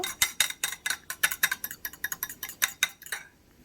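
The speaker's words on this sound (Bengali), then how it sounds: "ডিমটাকে ভালো করে ফাটিয়ে নেব" Two eggs being beaten in a bowl, heard as a quick, irregular run of bright clinks as the utensil strikes the bowl, close by and loud, stopping just before the end.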